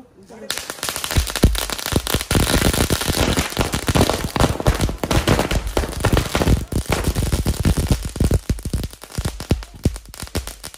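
Diwali firecrackers burst loudly and almost nonstop in rapid, dense crackling volleys, with sharp close pops packed together for the whole stretch.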